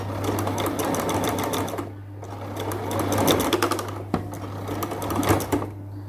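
A sewing machine stitching a lace sleeve cuff runs in close, rapid mechanical bursts with brief pauses and a steady motor hum underneath.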